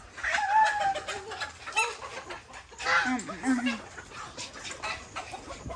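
Hens laying eggs cluck in short, near bursts of throaty calls, with a few higher squawks in between, against a quiet outdoor background.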